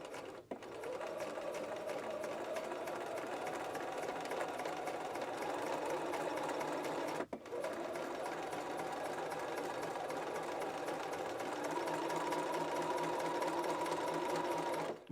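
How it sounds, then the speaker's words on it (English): A sewing machine stitching a sleeve seam, running in a continuous, steady mechanical whir with a brief stop partway through before resuming at an even pace. "I think it's just easier to have my fabric like kind of lifted away from the rest of my garment when I'm trying to sew the seam."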